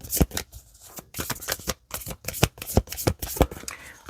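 Tarot cards shuffled by hand at close range, a quick run of crisp papery riffles and flicks with brief pauses between bursts.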